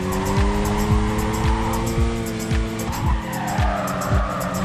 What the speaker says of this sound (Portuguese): Reduzir a velocidade do carro nesse jogo aqui é tão estranho, parece que o carro quase para.